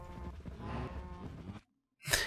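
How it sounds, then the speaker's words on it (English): A Minecraft cow lets out a low, drawn-out moo after being hit, close and fairly quiet, followed by a short silence and then a brief rustling burst. "I hit a cow."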